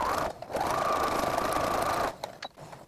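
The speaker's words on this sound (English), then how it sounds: "All right, so now I'm just gonna stitch here" A sewing machine stitches tape onto a homemade face mask in one steady run of about two seconds, close and fairly loud. It is followed by a few faint clicks from handling the fabric, and no one speaks.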